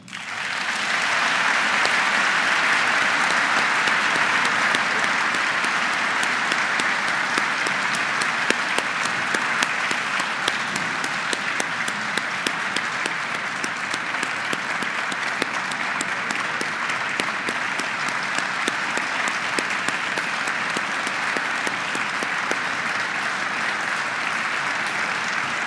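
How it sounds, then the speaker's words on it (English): Sustained applause from a ceremony audience honouring Ghost Army veterans at a Congressional Gold Medal event, a dense, even roar of many hands clapping that holds for the whole stretch, with sharper individual claps standing out. "feel free to applaud as I call their names"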